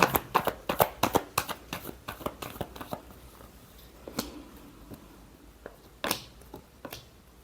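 A deck of cards shuffled by hand in a quiet room, a rapid riffle of sharp papery flicks at first, then slower scattered taps and snaps.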